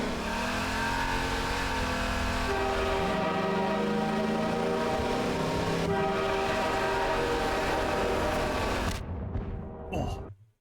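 Train in Half-Life 2 rumbling loudly and steadily with a long sustained horn blast over it, the sound cutting off abruptly near the end.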